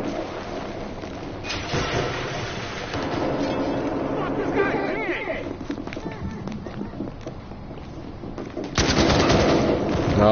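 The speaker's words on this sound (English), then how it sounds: "Somebody's shooting something." Gunfire in the video game Battlefield Hardline crackles in steady bursts through the match's background noise, with people talking over it throughout.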